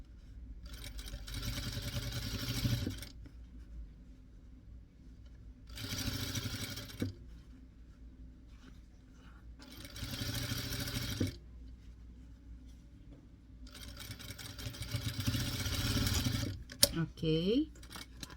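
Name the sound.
sewing machine stitching a fabric snowman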